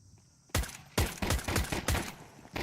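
Rapid gunfire rings out during a Counter-Strike match: sharp, loud bursts of several close shots in quick succession, with a short pause after the first shot.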